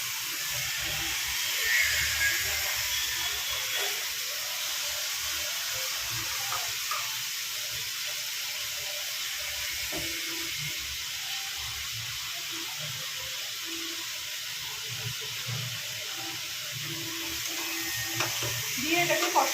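Potatoes and onion paste sauté in a hot pan for a homestyle Bengali dish, giving a continuous loud sizzle and hiss with occasional stirring scrapes; a voice speaks briefly and faintly underneath.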